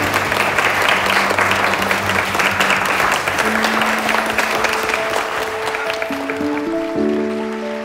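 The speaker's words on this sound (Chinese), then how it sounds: "我们掌声欢迎这对新人入场" Guests applaud to welcome the bride and groom entering a wedding, a dense sustained round of clapping with sustained musical tones rising beneath it as the clapping slowly fades.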